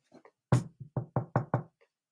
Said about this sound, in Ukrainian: Тук-тук-тук чути стук.